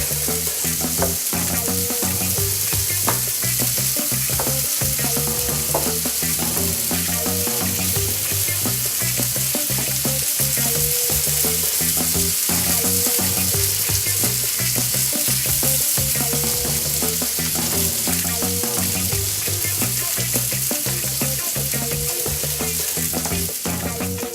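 Sausages fry in a pan for a breakfast of sour cream pancakes, a loud, unbroken sizzle and spatter heard up close with frequent scraping stirs, no one talking.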